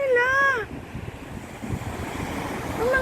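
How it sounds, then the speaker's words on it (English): Gentle waves of the Gulf of Oman wash at a seashore near a fish market, a soft steady surf rush with wind noise, while seagulls call near the beginning and end. "Ganyan lang po ang waves ng ng Oman Gulf."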